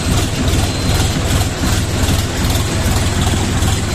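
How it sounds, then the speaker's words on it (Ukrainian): A DTZ mini tractor diesel engine idles steadily up close, a loud continuous low rumble with a fast, even chugging pulse and no pauses, running alone without voices. "Значить, от двигун працює хвилину, тримає всі роти."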